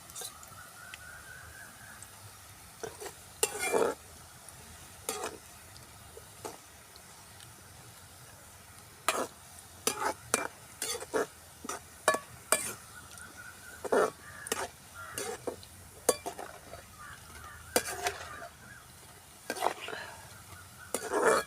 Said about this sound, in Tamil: பூந்தியை புழிஞ்சு விட்ருக்கோம் அதை போட்டுருக்கோம்